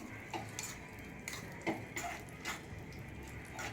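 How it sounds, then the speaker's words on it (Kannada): Raisins, cashews and almonds frying in ghee in a pan on medium flame for wheat halwa, a steady soft sizzle with intermittent clinks and scrapes of a spoon stirring against the metal pan, close and alone without voices. "ಇದಕ್ಕೆ ನಾನು ದ್ರಾಕ್ಷಿ ಹಾಕೊಂಡ್ಬಿಡ್ತೀನಿ ಗೋಡಂಬಿ ಬಾದಾಮಿ ಹಾಕಿದ್ದೆ ಇವಾಗ ಹಾಕ್ತೀನಿ"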